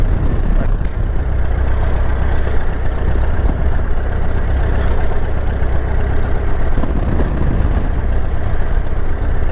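A Great Lakes biplane engine idles steadily while taxiing out on grass, a continuous low droning rumble with slight unevenness that stays loud and constant throughout.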